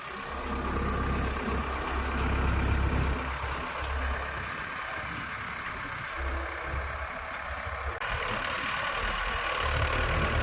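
A tractor engine runs steadily on a farm field in the morning, a loud, continuous low rumble and chug with no pauses, heard close by and alone without talk.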